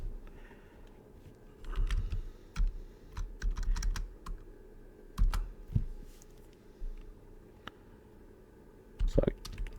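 Bursts of keystrokes on a computer keyboard while a kubectl command is entered, with irregular clusters of close, crisp clicks separated by short pauses.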